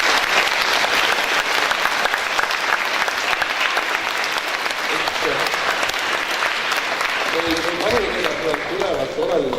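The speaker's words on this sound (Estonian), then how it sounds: "Nii et aitäh, õpetaja Signale aplaus." Audience applause fills a Christmas church concert at a school, honoring the music teacher; dense, sustained clapping runs loud throughout, with a few tonal notes surfacing near the end.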